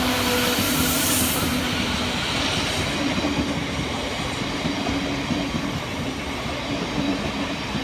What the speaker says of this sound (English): Taking us by surprise is 707029 and 707018, working the 1645 Southeastern service of London Charing Cross through to Hayes.